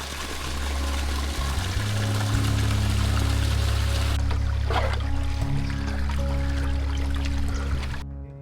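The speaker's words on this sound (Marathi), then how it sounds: "आता तळीतून पाणी सोडून झाडांना पाणी घालण्याची एक अनोखी पद्धत आम्ही पाहिली" Water released from a pond pours and gushes steadily to irrigate trees at a forest homestay, a loud continuous rushing flow that holds throughout before cutting off near the end.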